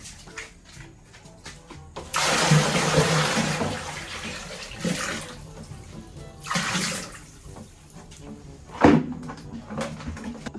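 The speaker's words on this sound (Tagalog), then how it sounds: "Ako po yung magsasalina ng tubig dito sa drum." Water poured from buckets into a drum at a rural hand-pump, gushing in two or three loud bursts with a sharp knock near the end, amid quieter clatter and no talk.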